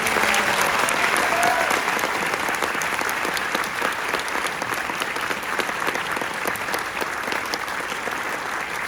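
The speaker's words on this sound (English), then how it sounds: "How about one more round of applause for Jay Jordan?" Sustained audience applause for a performer at a live event, a dense wash of clapping held at steady loudness for about nine seconds with no voices on top.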